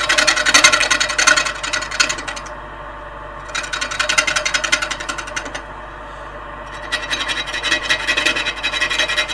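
A gouge cuts a large rotten wood bowl spinning on a lathe, making loud rasping, scraping bursts that pause twice and resume, with the edge pounding as it meets gaps of air in the turning.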